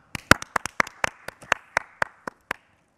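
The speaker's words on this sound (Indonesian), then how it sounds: "Tepuk tangan yang meriah untuk Rama." A few people clap for a contestant at an online stand-up comedy audition, giving sparse, distinct claps in an uneven rhythm in a quiet room, roughly a dozen sharp hits with no crowd roar.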